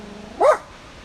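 A dog gives a single short, loud bark nearby, aimed at a mailman passing outdoors, against a faint steady background.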